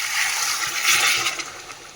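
Hot water from a pot of cooking rice poured into a pan of spiced vegetable curry, a steady broadband splashing rush that swells in the middle and tapers slightly, close and fairly loud with no talk.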